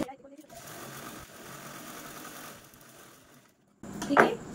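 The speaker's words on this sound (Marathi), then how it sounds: "आता यानंतर आपल्याला हा झिपचा दुसरा पार्ट आहे तो या साईडला ठेवून स्टिच करून घ्यायची आहे" A sewing machine stitches a zipper onto fabric for a small return-gift pouch, a steady mechanical whir running for several seconds before a short pause and a louder burst of clattering at the end; speech is faint or absent.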